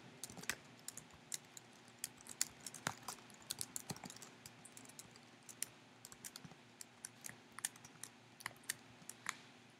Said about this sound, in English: Sorry, I'm having trouble typing here.